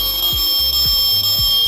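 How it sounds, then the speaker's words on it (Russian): Electronic siren-like car alarm from a toy Mercedes-Benz G65 wailing loudly and continuously with repeating sweeping tones, close up and tinny like a small toy speaker. "Открывать двери. При всем при этом со звуком сигнализации."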